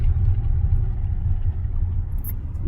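A vehicle rumbles past on a high mountain pass road on the route from Sarchu to Leh, heard as a low, steady engine drone close by with no talk over it.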